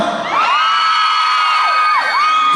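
A loud crowd at a concert cheers and screams continuously, with high-pitched shrieks rising and falling over a dense wall of voices.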